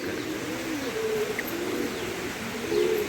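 Pigeons coo in low, repeated throaty phrases over a steady backdrop, several calls overlapping with one another and with a brief higher chirp, moderately close and fairly quiet.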